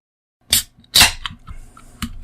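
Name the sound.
beer can being cracked open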